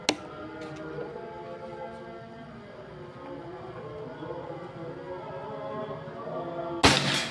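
A Predator Pajero Gen 6 air gun fires during an accuracy test: one sharp crack at the start and a louder snap near the end, separated by a low, steady background hum.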